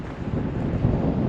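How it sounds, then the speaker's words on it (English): Wind gusts across a cliff-top walking trail at Howth Summit, producing a low, rumbling buffeting on the microphone that swells slightly toward the end of the short stretch, with no voices. "it's a bit windy"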